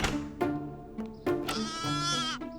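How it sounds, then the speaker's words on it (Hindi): A baby goat bleats several times in quick succession, its high wavering cries clear and close, with short pauses between calls and no voices over them. "ये बकरी का बच्चा है"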